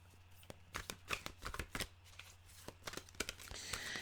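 Cards from a Journey of Love oracle deck being shuffled and handled close by, a run of quick papery riffles and taps, fairly quiet.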